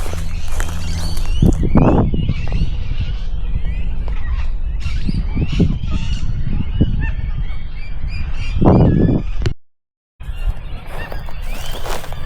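Loud Australian birds honking outdoors, repeated harsh goose-like calls in irregular bursts, close and prominent, with no talking.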